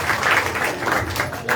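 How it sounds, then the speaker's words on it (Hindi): Audience applause at a devotional Katha gathering, a steady wash of many hands clapping throughout with slight swells, moderately loud and continuous with no pauses. "जोरदार ताली"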